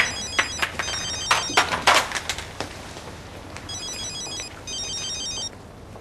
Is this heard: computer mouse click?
no